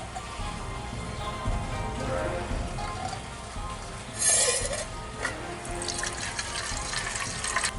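Water runs and splashes into a container, a steady hissing trickle with a brief louder gush partway through, close and fairly quiet against a noisy background.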